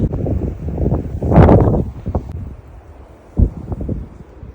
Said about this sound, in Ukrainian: Вже досить холодний вітер північний.